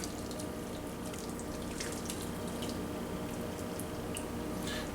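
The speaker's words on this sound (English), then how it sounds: "we're going to pour your boiling water over the mixture." Boiling water pours steadily over a chicken and rice casserole mixture with a soft continuous trickle and occasional drips, close by, with no talking.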